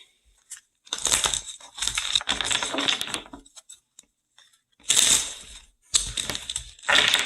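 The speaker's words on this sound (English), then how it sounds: "I gotta shuffle." Playing cards are shuffled in several separate bursts of dense rapid flapping, each lasting a second or two, with short quiet gaps between them.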